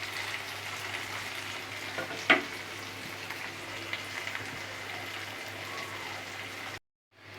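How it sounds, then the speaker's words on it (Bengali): Pomfret fish frying in masala in a pan, a steady soft sizzle running throughout with a brief stirring clatter partway through, then cutting to near silence at the end. "তো এইভাবে আমি মাছটাকে 2 পিঠ ফ্রাই করে নেব।"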